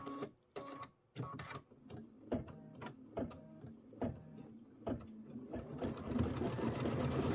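A sewing machine stitches a Kimberbell quilt square in rapid mechanical bursts, starting and stopping in short runs before a sustained whirring run at the end, close and fairly quiet.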